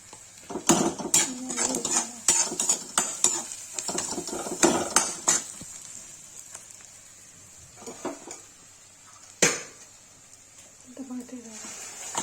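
Onions, red spice masala and vegetables tipped into a cooking pot for egg curry, with clattering pot and utensil knocks and scraping stirs, close up, while a person talks over it.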